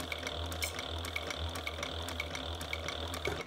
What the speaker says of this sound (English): my machine is noisy, but actually it's not the machine, it's the servo